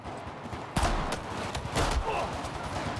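Two sharp sniper rifle shots in a video game, one just under a second in and another around two seconds, each a loud crack with a short tail over quieter background.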